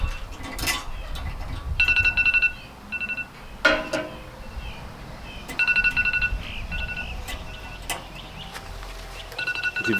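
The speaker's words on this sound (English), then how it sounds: "If you hear the alarm going off, that's the 3 minute." A timer alarm beeps in short, repeated bursts of high, steady tones while an Akorn kamado grill is started up, over a constant bed of outdoor background noise.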